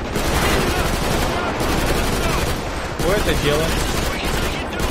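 Automatic rifle fire in GTA 5 Redux, loud and sustained bursts running almost unbroken with short pauses. Someone speaks over the shooting.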